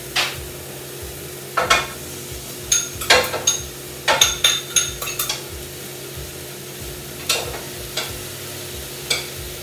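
Onions sizzling in a pot around browned meat, a steady frying hiss broken by repeated clanks and scrapes of a utensil against the pot, close and moderately loud with no talking.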